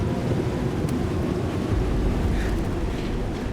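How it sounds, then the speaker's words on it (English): Storm ambience from the video game Life is Strange: Double Exposure, with a steady roar of wind and rain and a low rumble of thunder throughout, fairly loud and continuous with no talking. "A storm."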